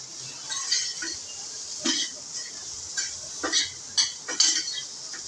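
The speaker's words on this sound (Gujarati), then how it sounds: "આ બધું આપણે મિક્સ કરી દઈશું" A spoon stirs seasoned idli in a pan with oil and chopped green coriander, giving a few scattered metallic scrapes and clinks, close and moderately quiet.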